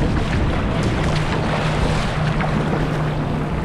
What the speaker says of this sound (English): Are those waves?